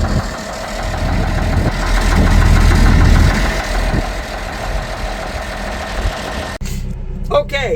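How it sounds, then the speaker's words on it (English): A vehicle engine turns over and settles into a rough, knocking idle, loud and close, surging briefly before evening out; a person speaks near the end as the engine keeps running underneath. "I like starting vehicles."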